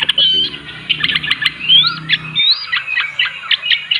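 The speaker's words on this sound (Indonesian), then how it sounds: "Burung terucuk di tangan bisa bunyi seperti ini." A sooty-headed bulbul, held in the hand, calls in a string of bright chirps and short whistled notes, close and clear, alone with only a brief low hum early on.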